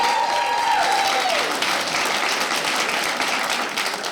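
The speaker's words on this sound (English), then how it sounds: "Where are you at, parents? Round of applause." A comedy club crowd breaks into sustained applause, a dense wash of clapping that stays fairly even throughout, with a brief whistle-like tone fading in the first moments.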